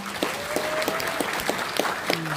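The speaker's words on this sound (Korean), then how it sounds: "여러분 다시 한번 큰 박수 부탁드립니다" Scattered claps and a short burst of applause from a small audience at a political rally, with a speaking voice and some tonal sounds running beneath.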